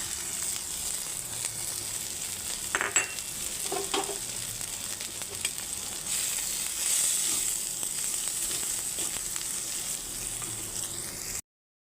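Ginger paste with salt, turmeric, chili, cumin and coriander powders frying in a pan: a continuous close hiss of sizzling oil, broken by occasional scraping stirs.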